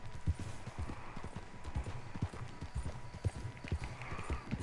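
A horse gallops in Red Dead Redemption 2, its hooves striking in a steady, rapid clip-clop rhythm at moderate loudness over faint game ambience, with no talk.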